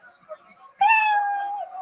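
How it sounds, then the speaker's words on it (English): A cat's meow as a short sound effect: one drawn-out, loud, tonal call that starts abruptly after faint, quieter noises and then slowly fades. "you hear the sound of a kitty"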